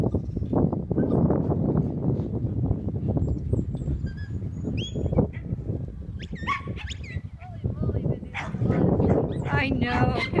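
Herding dog working lambs among ewes, with repeated yips, barks and high whimpers close by, mixed with bleating and people talking over the animals throughout.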